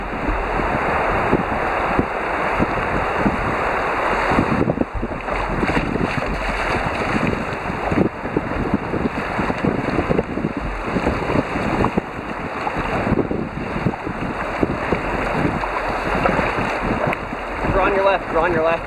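An 18-foot canoe runs through swift, high river water near rapids, with a continuous rushing wash and wind buffeting the microphone throughout, fairly loud and close.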